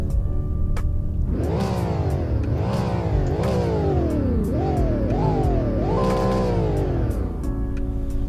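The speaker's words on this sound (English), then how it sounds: "this is the startup and revs on the 2021 Ford Mustang Mach 1." A 2021 Ford Mustang Mach 1 is revved up close, loud and repeatedly, in five or six rising-and-falling throttle blips, then settles back to a steady idle.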